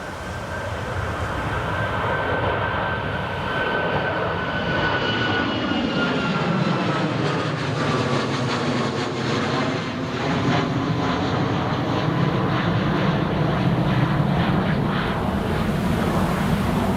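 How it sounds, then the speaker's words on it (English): A TUI Boeing 737 MAX 8 jet departs Newcastle Airport for Gran Canaria with a long, loud, continuous engine roar that sweeps and shifts in pitch as it passes. "here comes the second newest TUI 737 MAX 8 in the fleet"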